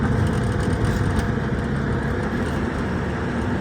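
A Hyundai Grand Starex engine with a fault where the RPM drops around 2,500, running steadily at moderate revs; a continuous low hum, close and alone, with no voice.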